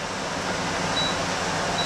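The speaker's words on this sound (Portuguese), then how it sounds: "Peço desculpa pelo barulho do exaustor, mas é uma coisa que eu não posso desligar com fritos" A kitchen extractor hood runs steadily during deep-frying of homemade rissoles, a constant broad rushing drone with no pauses and no voices.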